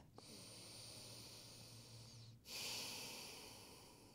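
Slow, steady breathing during a yoga flow, faint and close, with a sustained airy hiss and a sharper inhale-like swell near the end.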